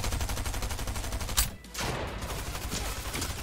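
Rapid automatic gunfire in a one-on-one video game match, a steady loud rattle of shots, a short break with a heavier blast, then the firing resumes.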